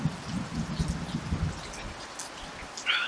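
Steady rain falls on a rainy day in Florida, making a soft, continuous patter with a faint low rumble and a few brief higher sounds over it.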